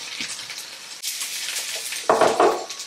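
Eggplant pieces drop into a hot pan for ratatouille, a soft hiss building into a sharper burst of sizzling near the end, with a clatter as they land.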